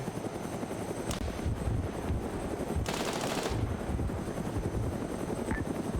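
Machine gun fire from the Arma 3 video game: one sustained burst of rapid shots rings out over a continuous loud helicopter rotor drone, along with a few scattered single cracks, and no one speaks.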